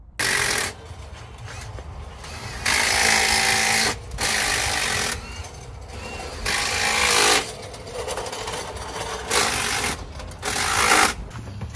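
Power tools, likely impact guns, fastening bolts on a truck cross member during an engine install, in loud bursts of broadband whirring and rattling that start and stop repeatedly, with a steady workshop background between bursts.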